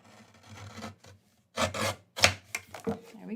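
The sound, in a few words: trimming excess off a card base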